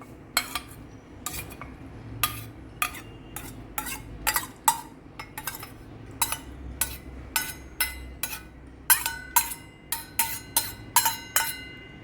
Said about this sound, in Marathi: आता मी हे सगळं मिक्स करून तुम्हाला दाखवते.